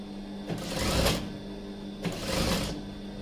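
A sewing machine stitches a petticoat frill in two short runs of whirring, mechanical rattle, close and steady, with a brief pause between bursts.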